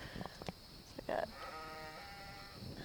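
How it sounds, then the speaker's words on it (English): A sheep loose in a garden yard gives a clear, drawn-out bleat at fairly close range, with a few faint knocks and rustles before it. "That's my sheep. She's out running around in the yard today."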